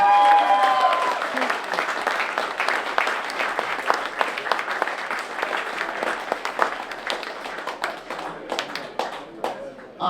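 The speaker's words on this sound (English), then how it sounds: "big round of applause for wombat" Loud, sustained applause from a crowd, dense clapping that carries on for several seconds and thins slightly toward the end.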